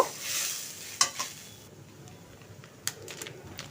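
Lentils frying in a pan, a soft sizzle that fades after a second, with a sharp utensil tap and a few light stirring clicks over a quiet background.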